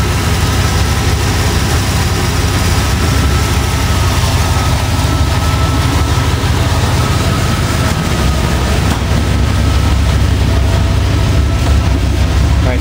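A Ford 351 V8 idles steadily and loudly up close after a head gasket repair, running a little rough with a continuous low rumble.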